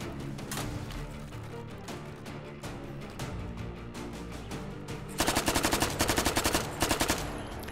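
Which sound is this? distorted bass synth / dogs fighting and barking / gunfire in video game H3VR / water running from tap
gunfire in video game H3VR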